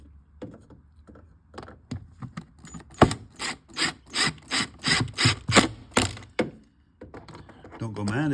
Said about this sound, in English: And then it's a case of just putting the screws back in.